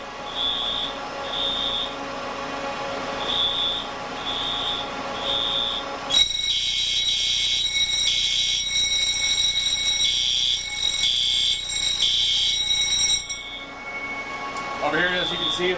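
An electronic fire alarm in a server room fire suppression system beeps in a steady repeating pattern, then a louder, harsher alarm tone joins and sounds continuously before cutting off.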